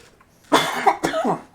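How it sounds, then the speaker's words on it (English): A person gives a couple of sharp, close coughs in quick succession, loud against a quiet background. "I'll try not to cough too much."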